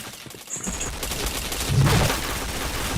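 Rapid gunfire in a video game shooter, a fast burst of shots close and loud, with a heavier thump of impacts near the middle and a dense rattling texture throughout.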